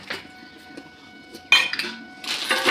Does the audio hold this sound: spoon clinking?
yes